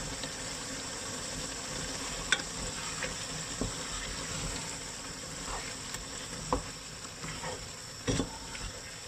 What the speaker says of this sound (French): ajouter notre gingembre et l'ail